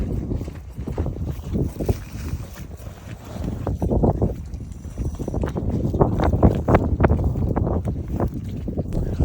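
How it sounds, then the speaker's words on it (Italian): Strong wind at sea during a fishing trip buffets the microphone in continuous low, rumbling gusts that swell and fade throughout, with no clear voices. "Il vento nel frattempo è aumentato tantissimo"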